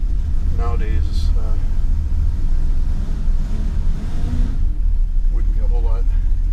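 A 1968 Ford Mustang engine with 128,700 miles idles after a very cold start, a low, steady rumble close by, while someone talks over it at a few points.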